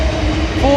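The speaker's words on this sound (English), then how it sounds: "As we have two trains coming in." A South Western Railway train rolling through Vauxhall station, a brief steady rumble with a faint squeal of wheels, near and loud.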